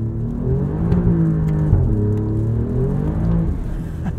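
A 2021 Alfa Romeo Giulia Quadrifoglio in race mode accelerates hard with its tires breaking loose, the engine revving up through rising and falling pitch sweeps, loud and close from inside the car.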